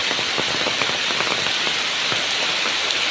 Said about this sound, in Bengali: প্রচুর পরিমাণ বৃষ্টি হয় প্রচুর পরিমাণ বৃষ্টি